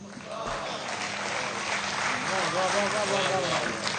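An audience at a Haryanvi comedy stage show claps steadily for about four seconds, a dense wash of applause running beneath a speaking voice.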